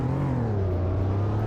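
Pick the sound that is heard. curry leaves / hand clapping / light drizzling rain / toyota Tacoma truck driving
toyota Tacoma truck driving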